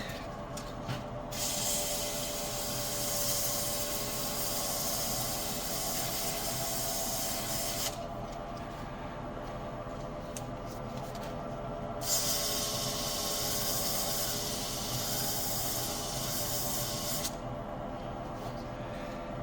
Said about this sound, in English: I'm just going to sand that up a little bit, get that nice and smooth.